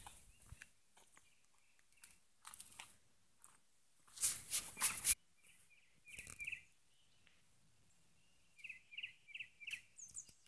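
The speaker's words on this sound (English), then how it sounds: "There's birds singing everywhere." Birdsong outdoors: scattered chirps and short repeated calls, some near and some distant, broken by brief rustling bursts and quiet gaps, with no talking.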